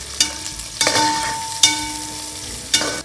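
Crushed garlic and sliced onion hit hot oil in a pan for a peanut masala, giving a close sizzle broken by several sharp scraping stirs and clanks of the spoon.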